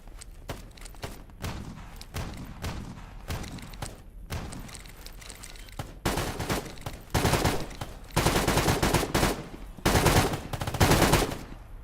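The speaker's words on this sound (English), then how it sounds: "Guy's still shooting a Tushkin" Rapid bursts of automatic fire from a Tushkin rifle in the shooter game Stalker GAMMA, loud and close, with short dense volleys and brief pauses, growing heavier and more sustained toward the end.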